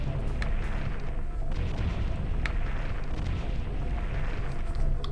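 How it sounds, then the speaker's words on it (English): Proximity bombs in the Owlboy video game burst in a dense, continuous rumble of low booms and crackling blasts that overlap steadily without pause. "They do really like those proximity bombs."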